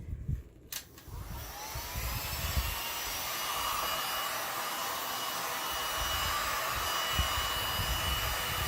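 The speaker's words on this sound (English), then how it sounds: "use my heat gun to now spread this out" A heat gun blows a steady, loud stream of hot air over epoxy resin on wood, its whine holding constant after a brief click at the start.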